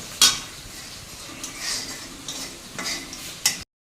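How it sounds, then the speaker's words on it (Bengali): Panch phoron and dried chilli crackle in hot oil as a spoon stirs and clinks against the pot, a soft sizzle broken by a few sharp metallic knocks. "পাঁচফোড়ন আর শুকনো লঙ্কা দিয়ে ফোড়ন দিচ্ছি"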